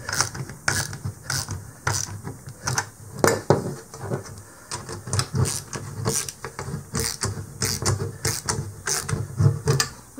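A double tank adapter for independent backmount diving tanks being tightened onto its bolt, heard as a close, steady run of rhythmic ratcheting clicks repeating for about ten seconds with no talk.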